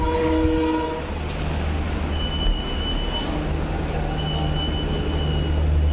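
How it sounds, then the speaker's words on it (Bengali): At platform 2 of a railway station, a train sounds a short horn blast, then a low, steady rumble of rolling cars and station ambience continues, with no voices. "ট্রেন অ্যাকচুয়ালি 2 নম্বর প্ল্যাটফর্মে দিয়েছে"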